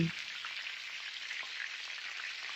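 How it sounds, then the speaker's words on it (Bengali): Black mustard seeds, fennel, chopped green chili and a pinch of asafoetida fry in hot oil, giving a steady, soft, even sizzle throughout. "এবার এগুলোকে একটু ভেজে নিচ্ছি।"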